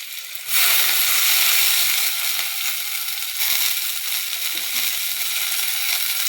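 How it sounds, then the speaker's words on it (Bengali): Washed greens hit hot oil with a sudden loud burst of sizzling that settles into steady crackling hiss, close and continuous without talk. "ধুয়ে নেওয়া শাক তেলের মধ্যে দিয়ে দেব।"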